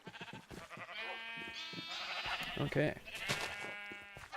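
Sheep in Minecraft bleating several times in quick succession, close and clear, with a person speaking briefly among them.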